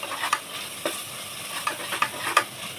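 Ginger and garlic sizzle in a pan while being stirred, with a soft continuous fry and several sharp scraping clicks of the spoon against metal, close up and without talk, during preparation of mushroom biryani.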